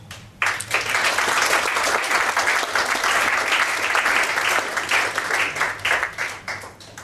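Loud, dense applause from a large audience at a foundation dinner starts abruptly and continues steadily with many overlapping claps, no voices standing out.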